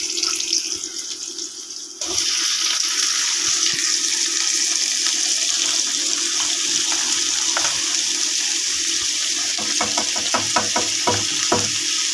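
Potatoes and moongre vegetables sizzle steadily in a hot tadka, a loud continuous frying hiss that jumps up after a quieter start, with scattered clinks and scrapes of stirring near the end.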